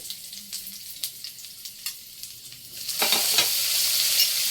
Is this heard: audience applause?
no